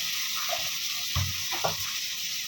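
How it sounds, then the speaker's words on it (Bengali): Garlic paste and prawns frying together in a pan, a soft steady sizzle with a couple of brief stirring scrapes, close and fairly quiet, no voices. "রসুন আর চিংড়ি মাছ সব একসাথে আবার একটু ভেজে নেব।"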